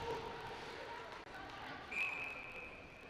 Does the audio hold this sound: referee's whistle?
yes